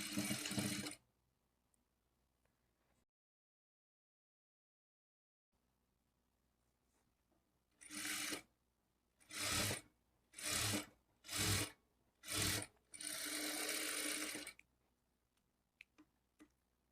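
A sewing machine runs a line of stitching along the edge of a double-folded blouse hem. It comes as several short, separate bursts of whirring after a quiet pause, with no talking.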